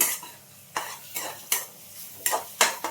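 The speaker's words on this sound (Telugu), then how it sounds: "ఇప్పుడు అల్లం పేస్ట్ వేసాం కదా, ఇంకొంచెం వేపుకుందాం" Ginger paste frying in a pan for a mango fish curry, with a handful of sharp spatula scrapes and taps against the pan over a soft background sizzle, close and alone.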